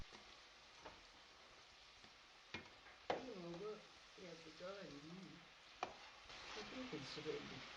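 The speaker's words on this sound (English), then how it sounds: "Fry for 7 to 8 minutes until the chips turn golden and crisp on the outside." Cassava chips fry in hot cooking oil with a faint, steady sizzle and scattered pops and clicks. A person's voice speaks over the frying in the second half.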